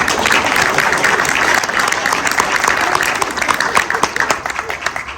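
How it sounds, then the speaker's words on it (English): A convention audience breaks into loud, dense applause that fills the room, with a few clearer individual claps near the end as it tapers slightly. "let's applaud for them."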